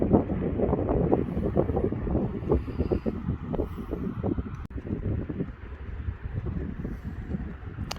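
Breezy wind at St Andrews beach in Scotland buffets the microphone in a continuous low rumble with gusty surges, loud and close, with no talk.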